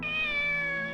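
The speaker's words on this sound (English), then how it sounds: "I just want to pet the cat." A cat meows in the video game Shenmue: one sustained, close, clear meow with no talking.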